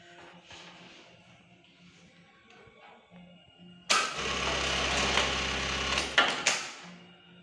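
A sewing machine servo motor starts with a sudden loud whir, runs steadily for about two and a half seconds and then stops, after quieter clicks and handling noise.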